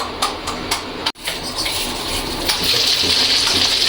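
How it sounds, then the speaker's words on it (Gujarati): Half a glass of water is poured into a pan for cooking pasta. A few short knocks come first, then a brief gap, then a steady gushing pour that continues to the end. "હવે તેમાં અડધો ગ્લાસ પાણી ઉમેરશું."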